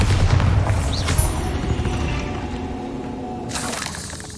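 The Bombarda blasting spell explodes in the video game Hogwarts Legacy, a loud boom followed by a rumbling decay and then a second burst near the end.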